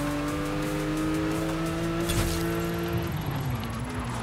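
Car racing along in Forza Horizon 5, an open-world racing game: a loud, steady engine drone with sustained tones that shift and drop as the car eases off near the end.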